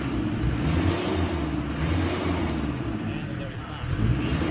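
A Mitsubishi 4D56 diesel engine, fuel injection pump just adjusted, revs with a low, rumbling drone that stays steady and rises slightly near the end, heard close up.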